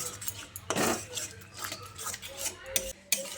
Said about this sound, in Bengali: দইটাকে দেওয়ার সঙ্গে সঙ্গে মশলার সঙ্গে ভালো করে কষিয়ে নিচ্ছি